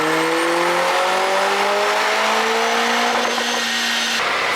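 A tuned Lotus Emira sports car engine running a JB4 Map 1 IAT-spoofing tune, with turbo and supercharger, revs steadily upward under load on a dyno in one loud continuous pull, then cuts off abruptly near the end.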